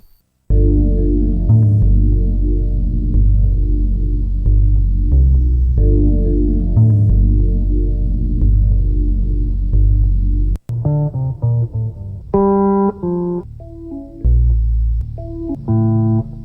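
A deep, buzzy synthetic bass pattern from an Akai MPC Touch loops steadily, then switches to a choppier sequence of bright, stabbing tones with short gaps.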